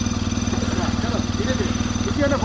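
A motorcycle idles with a steady, close, low throbbing rumble on a fall trail ride in Arkansas, while people talk over it.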